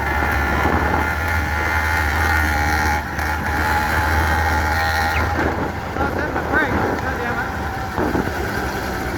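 A motorized bicycle engine revs hard and steady as the rider pulls out of a turn, a loud buzzing drone with some wind rush and brief changes in pitch near the end.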